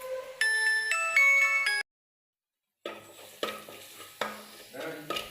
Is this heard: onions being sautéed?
yes